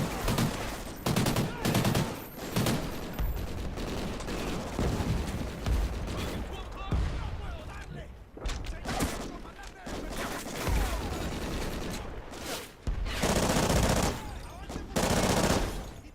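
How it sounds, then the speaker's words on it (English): Dense, continuous gunfire from the Call of Duty: Ghosts campaign, with rapid automatic bursts, booming impacts and explosions layered together, staying loud almost throughout and swelling near the end. "I would move up, I'm getting shot at there."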